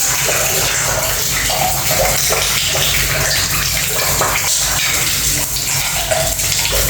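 Water runs continuously from a plumbing problem, a loud, steady gushing rush close by that never lets up.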